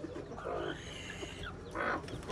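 Chickens cluck in short, soft bursts as a hen is lifted out of a coop with her chicks, with faint bird calls around and no talk.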